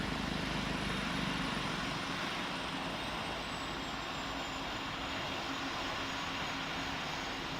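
An airplane lands in Roblox's Pilot Training Flight Simulator, its steady loud jet engine roar continuing unbroken and slowly easing, with a faint high whine falling in pitch.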